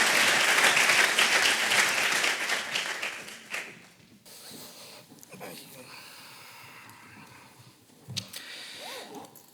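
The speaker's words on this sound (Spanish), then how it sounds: "yo quería darle un gran aplauso" An audience at a cybersecurity talk applauds loudly for about four seconds, the clapping fading out into quiet room noise with faint sniffs and small movements.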